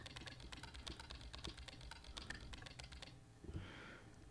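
Computer keyboard keys clatter in quick, uneven bursts during play of the game Emily is Away, close and quiet, ending with a pause and a faint rustle, with no talking.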